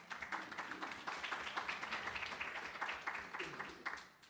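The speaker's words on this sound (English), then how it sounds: "Round of applause, please." Audience applause at a panel discussion on community arts funding: a dense, fairly faint wash of clapping that holds steady for about four seconds and then tails off.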